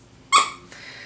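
A squeaky dog toy shaped like a Halloween coffee cup with a ghost and whipped cream gives one sharp, high squeak, close and fairly loud, followed by a fainter trailing squeak.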